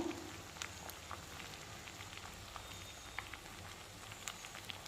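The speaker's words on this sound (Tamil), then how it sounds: "நல்லா கொதிக்குது பாருங்கள்" A pot of drumstick-leaf soup bubbles quietly at a steady simmer, with faint irregular pops and crackles over a low, continuous hiss.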